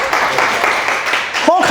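Audience applause at a live motivational speech, a short burst of dense clapping filling the room before a voice begins speaking.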